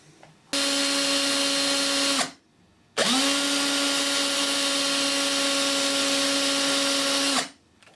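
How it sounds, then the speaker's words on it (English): A cordless drill fitted with a polishing disc buffs a brass door knob, spinning up in two loud steady runs with a short pause between, each winding down at the end; no voices. "we're going to use a polishing disc in a cordless drill"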